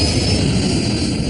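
Jet engines of an American Airlines airliner powering up, heard as a steady, loud, continuous roar with a high whine holding throughout.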